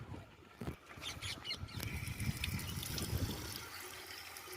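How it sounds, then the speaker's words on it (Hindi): Water poured by hand onto the face during wudu ablution, a steady close splashing and trickling that runs continuously with a few louder splashes, no talk over it. "आपको इस तरह पानी डालना है चेहरे पर, आराम से आपको पानी डालना है ऐसा।"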